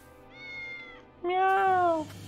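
Two drawn-out cat meows in the video game Triangle Strategy, the second louder and longer, with a short pause between them and faint background hum.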